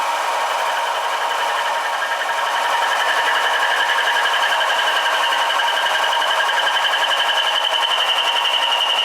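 A milling machine cuts metal with a roughing end mill, giving a loud, steady, high-pitched buzzing whine that holds evenly throughout, with no voices.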